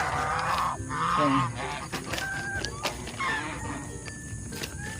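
Geese honk several times in short nasal bursts, fairly close, with some faint background noise between calls.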